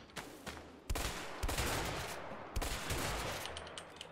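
Several sharp gunshots ring out in the co-op prison-break game A Way Out, loud bursts spaced irregularly with a heavy one near the start and another toward the end, over a constant rumbling background.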